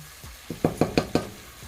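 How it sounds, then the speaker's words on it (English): Curry chicken frying in a pot, heard as a few close stirring scrapes and clacks of a utensil against the pot over a soft sizzle, with no voices. "Gonna let the curry fry up on the meat"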